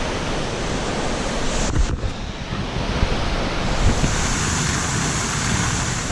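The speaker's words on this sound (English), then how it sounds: "I came up really close to the waterfall" Waterfall in Iceland roaring as a steady, dense rush of water close by, with wind buffeting the microphone and no talking.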